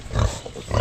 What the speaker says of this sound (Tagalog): Abay, maaamo ang baboy mo.